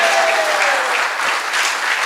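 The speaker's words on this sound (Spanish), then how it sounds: "Den un fuerte aplauso a Dios por eso." Loud, dense applause from a church congregation, a close, sustained wash of clapping holding steady for about two seconds with no speech over it.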